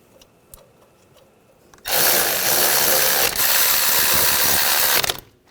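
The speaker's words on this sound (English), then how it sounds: "Now put the bracket bolts on," Power tool or ratchet running up the rear brake caliper bracket bolts on a 2000-2006 BMW X5, a loud continuous whirring burst lasting about three seconds after near-silence, close up.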